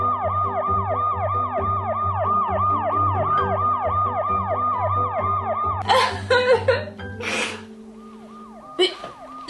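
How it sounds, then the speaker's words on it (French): Police siren cycling in a loud, close, repeating wail that cuts off partway through, followed by scattered bangs and brief voices. "Vous n'entendez pas les sirènes de la police?"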